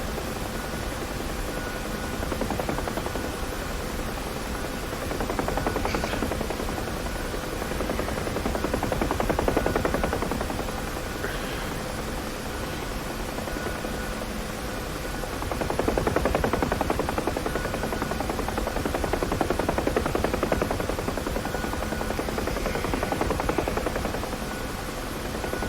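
A UH-1H Huey helicopter in the DCS flight game flies over Las Vegas, its dense rotor and turbine roar steady and loud throughout, swelling and easing in slow waves.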